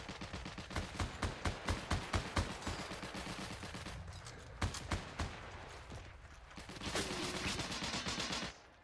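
Gunfire in the Heroes & Generals video game rattles in rapid bursts of repeated shots, some close and punchy, with a sustained stretch of continuous firing near the end.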